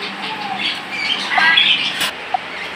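Caged birds squawk loudly and repeatedly at the Tongi bird market in Bangladesh, a busy trade spot for pigeons, doves and other birds, with shrill calls overlapping in a close, continuous racket.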